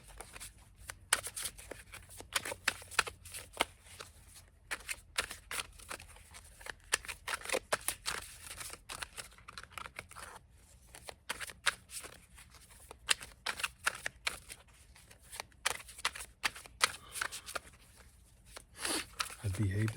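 Tarot cards being shuffled by hand, a long run of quick riffling flutters and soft slaps, close and quiet, with speech audible underneath.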